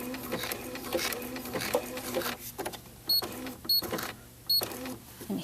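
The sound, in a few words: sewing machine stitching an applique curve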